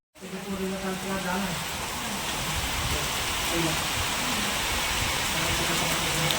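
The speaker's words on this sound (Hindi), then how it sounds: "बहुत तेज बारिश हो रही है।" Heavy rain pours down steadily in cold, windy weather, a dense continuous hiss that stays loud and even from start to finish, with a faint voice briefly beneath it at the beginning.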